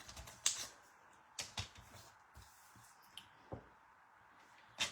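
Paper being cut down to 7 inches on a trimmer while decorating a Stampin' Up! planner spread: a few sharp, quiet snips and clicks spaced across a mostly hushed background.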